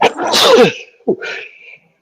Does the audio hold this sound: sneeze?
yes